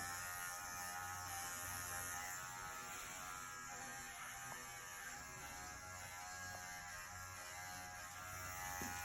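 Electric clippers buzz continuously at close range while grooming a Schnauzer dog, a steady hum with little change throughout.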